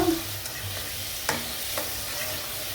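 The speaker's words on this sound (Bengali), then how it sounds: "মশলাটি কষানো হয়ে গেছে। আমি এখন কদুটি দিয়ে দেব।" Pieces of bottle gourd fry in a spiced masala in a pan, giving a continuous low sizzle with a couple of faint stirring scrapes, close and without talk.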